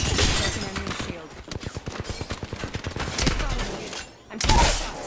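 Apex Legends gunfire crackles in rapid automatic bursts, loud and close, with a player's voice over the fight and a heavier blast near the end.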